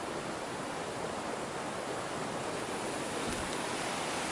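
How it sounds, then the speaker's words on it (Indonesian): Small waterfall on the Bangek river at Lubuak Ngalauan in West Sumatra, a steady close rush of falling water with no pauses, loud and even throughout. "Air terjun mini ya."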